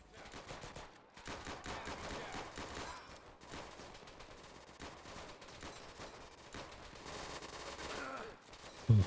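Machine gun fire in the video game Easy Red 2, dense sustained bursts of rapid shots with a steady rattle through the whole stretch and a sharper bang at the very end.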